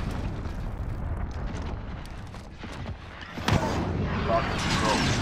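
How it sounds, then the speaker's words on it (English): Cruise missile strike from a Call of Duty Modern Warfare match: a sudden loud blast bursts in near the middle and leaves a sustained roaring rumble, over a busy bed of game noise with voices talking. "Cruise missile on the way."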